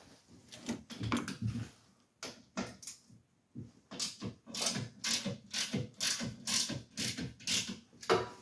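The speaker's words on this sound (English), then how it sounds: "take this bracket off of here, because this bracket is what holds down this shifter area. So I'm going to pull the bolts on that." Rapid bursts of ratchet clicking from a wrench pulling the bolts on a shifter bracket of a Max IV 6x6 amphibious vehicle, several quick strokes in a row, close and fairly loud with no talking.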